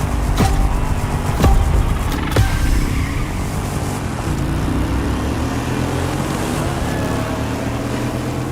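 A motorbike engine runs at full throttle in the racing game The Crew Motorfest, a loud sustained roar with a few sharp transients early on and no talk.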